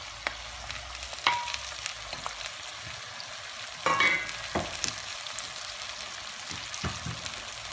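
Whole mushrooms, halved small carrots and other vegetables sizzle steadily in a hot pan alongside veal chops, with a few louder clicks and stirring scrapes and one brief surge of spitting about halfway through.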